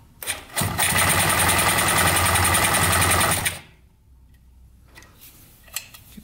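A $50 2-stroke Yamaha motorcycle engine cranks over on the starter in one loud, steady burst of about three seconds, then cuts off, leaving faint handling noises.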